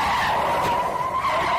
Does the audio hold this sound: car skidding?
yes